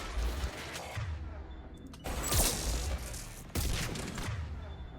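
Rapid bursts of gunfire from a weapon in Mass Effect 3 come in three loud volleys separated by brief pauses, with mechanical clicks between them.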